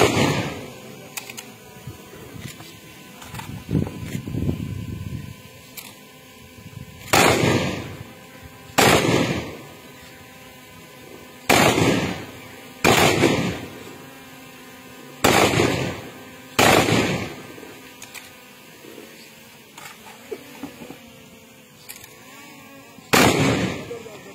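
Volleys of rifle fire at a police training passing-out ceremony firing display, roughly nine sharp loud cracks at irregular intervals over steady crowd murmur and background voices.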